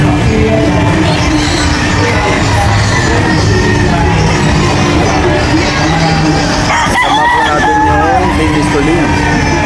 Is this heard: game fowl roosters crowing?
yes